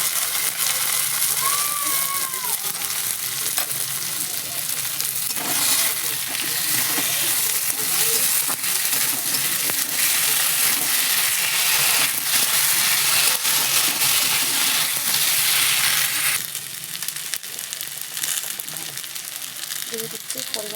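Tomato and a ground paste of ginger, garlic, coriander, cumin and black pepper hit a pan of already-fried onion and potato, giving a loud, continuous close sizzle with crackling bubbles that eases slightly near the end.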